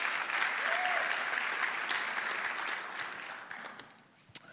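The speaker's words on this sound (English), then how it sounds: "Come on, yeah, somebody's clapping." A church congregation applauds in a steady, dense wash of clapping that holds for several seconds, then thins and fades out, ending with a single sharp clap.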